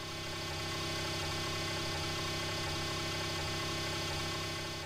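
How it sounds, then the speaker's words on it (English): Trunked public safety radio system control channel data signal received on a scanner, a constant dense buzzing digital hiss with a fast repeating warble, steady and unchanging throughout. "That's the sound of the computer controlling all the radios logged onto the system."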